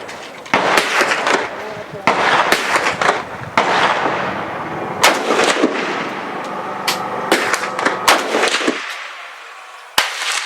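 An AK-47 rifle firing at steel targets on a shooting range, with sharp, loud shots spaced irregularly over about ten seconds and a voice talking between them.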